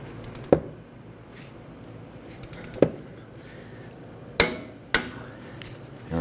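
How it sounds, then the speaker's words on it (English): A torque wrench tightens the hub bolts on a Dodge Charger steering knuckle. Four sharp metallic clicks ring out separately at close range over a quiet background. "torque down our 3 hub bolts to 41 foot-pounds"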